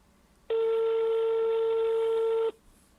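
A single steady electronic telephone tone sounds for about two seconds, loud and close, then stops abruptly in a quiet room.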